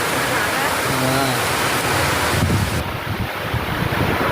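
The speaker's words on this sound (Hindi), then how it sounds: "ये मौसम को मजा ले बार आगे बाहर पानी गिरा तो देखे बार।" Rain pours down outside in a dense, continuous hiss, heavy and close, with a brief voice in the middle.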